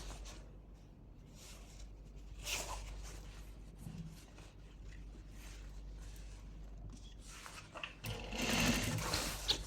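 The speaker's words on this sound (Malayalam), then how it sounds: "ഇനി മറ്റേ സൈഡും സ്റ്റിച്ച് ചെയ്യാം" A sewing machine stitches cloth along the second side of a homemade item, running steadily at close range for the whole stretch and speeding up toward the end, with no talking.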